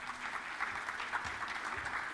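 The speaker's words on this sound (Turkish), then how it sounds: "Büyük bir alkış hemen geliyor." Audience applause at a research summit talk: steady, moderate clapping from a crowd filling the room, continuous and even with no voices standing out.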